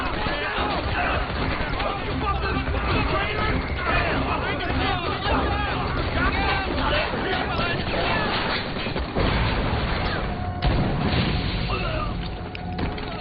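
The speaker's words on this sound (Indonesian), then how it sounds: "baku tembak pun terjadi antara kedua kelompok tersebut" Film gunfire erupts between two armed groups as a dense, chaotic exchange of booms and crashes, loud and continuous, with agitated voices and crowd noise mixed through the clamor.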